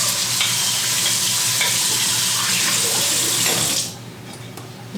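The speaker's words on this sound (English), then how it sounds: "So let me rinse this bowl because I'm going to reuse this bowl real quick." Tap water gushes into a kitchen sink to rinse a bowl. The rush is loud and steady, then the water cuts off, leaving faint drips and clinks.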